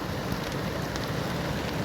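Light rain falls outdoors in nature: a continuous, even hiss of drops on surfaces, steady throughout with no voices.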